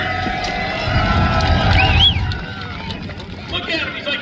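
Loud crowd roar at a cheap car challenge finals motorsport event, cheering and shouts swelling over a second or two, then easing into background chatter and noise.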